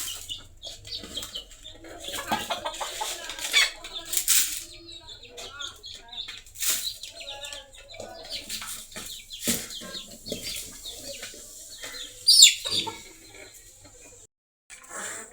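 Backyard chickens peck at a pot of mixed feed around dusk, with scattered clucks, a few sharp squawks and bursts of wing flapping, all close and uneven, while a person talks now and then.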